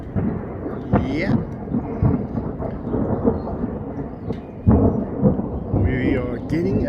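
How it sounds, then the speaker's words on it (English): Thunder from lightning strikes during a storm, deep continuous rumbling with two sharper cracks rising out of it, loud and fairly close, with rain-like hiss underneath. "We are getting a couple of lightning strikes."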